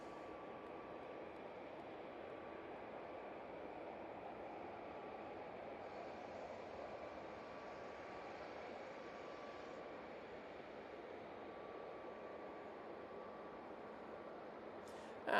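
A TUI airliner at Manchester Airport gives off a steady, distant roar that holds evenly from start to finish, with no voices over it.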